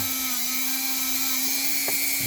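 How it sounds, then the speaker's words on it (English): A Dremel rotary tool fitted with a wire wheel whirs at a steady high pitch as it cleans axle parts by hand. The sound is faint to moderate and continuous over a short stretch, with a brief scrape near the end. "by hand with the wire wheel on the Dremel"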